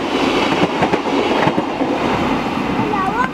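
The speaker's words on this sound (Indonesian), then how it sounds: "Kereta lagi." A passing train rolls by close and loud, with a continuous rumble and rhythmic clacking of wheels, a faint squeal near the end, and voices talking over it.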